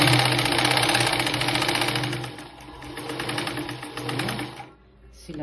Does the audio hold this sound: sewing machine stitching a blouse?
yes